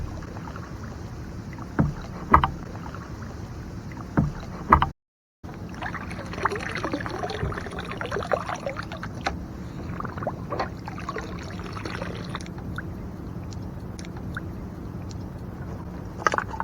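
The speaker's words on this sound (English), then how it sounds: "as soon as the wake stops my kayak from" A kayak on a lake rocks up and down in a passing boat's wake, with hollow slaps and sloshes of water against the hull, irregular knocks and trickles close by, and a brief dropout partway through.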